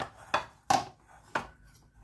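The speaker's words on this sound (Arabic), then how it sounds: "هنبدا بقى نقطعهم برضو تقطيع كده مع بعض." Tomatoes, onion and parsley are chopped on a board in the kitchen with three sharp, separate knife strokes, close and crisp against near silence.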